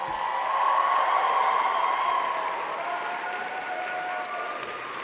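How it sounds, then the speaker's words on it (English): Graduating class at a university convocation ceremony applauds their families, friends, faculty and staff, a broad, even wash of clapping from a large hall with faint cheering, holding steady throughout. "let me invite the members of the graduating class to reciprocate by applauding your family, friends, faculty, and staff"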